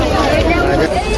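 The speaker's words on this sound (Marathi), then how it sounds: "खूप गर्दी आहे." A crowded flower market in Kalyan on a rainy day, dense overlapping chatter of many people nearby forming a steady hubbub.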